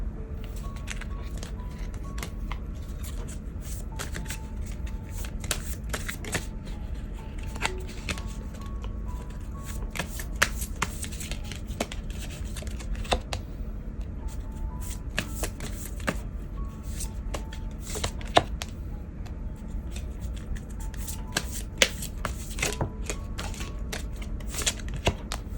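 Tarot cards are shuffled by hand nearby, producing a long run of quick papery riffles and soft slaps in an uneven rhythm, with no talk over them.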